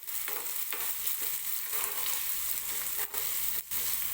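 Chopped onion frying in oil for rava appe batter, a steady close sizzle that runs throughout with a few soft stirring scrapes and two brief dips near the end.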